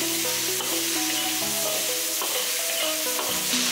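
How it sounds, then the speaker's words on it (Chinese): Pickled chilies stir-frying in hot oil in a wok with ginger, garlic and Sichuan peppercorns, a steady loud sizzle with scraping stirring sounds throughout, backed by music. "把泡椒倒入锅中，翻炒出酸香味"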